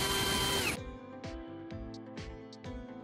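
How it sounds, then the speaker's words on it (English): A power drill spins a carbon rod clamped in its chuck, a brief loud whir that cuts off and gives way to a few light clicks and taps from handling the tool. "To make our carbon rod tip precise and effective, I'm securing it into a drill chuck."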